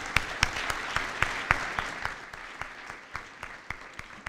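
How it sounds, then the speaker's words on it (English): An audience at the 2014 KC BizFest graduation ceremony claps, a thin scattering of sharp, fairly regular hand claps that taper off slightly over a few seconds. "So let's give them a round of applause."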